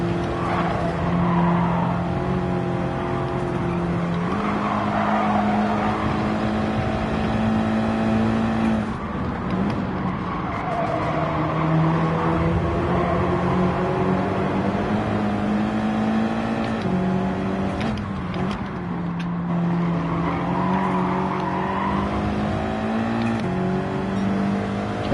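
Race cars roaring around a track in Gran Turismo 7, engines droning loud and steady with pitch rising and falling through gear changes and corners, tires occasionally squealing.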